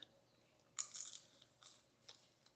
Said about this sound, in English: The French fries are crunchy.